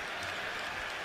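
A basketball arena crowd cheers and applauds loudly and steadily as Enes Kanter of the Knicks heads to the scorer's table, a dense roar without a break.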